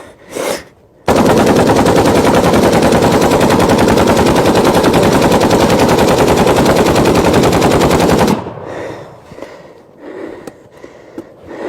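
An AK rifle fires on full automatic in one long, loud, unbroken burst of rapid shots lasting several seconds, with quieter handling noise and breathing before and after.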